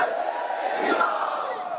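A big rally crowd roars in a loud, continuous wave of massed voices, swelling into a cheering burst halfway through.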